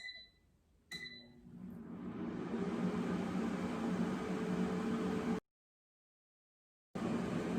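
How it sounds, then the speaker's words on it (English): Air fryer cooking frozen salmon bites at 400 degrees, starting with a few beeps and then a steady fan whir and hum, cut off abruptly by a brief silence before resuming, no talking. "And now I will set the temperature to 400 degrees Fahrenheit. And I will set the time to 9 minutes."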